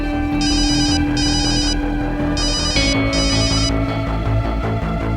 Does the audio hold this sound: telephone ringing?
yes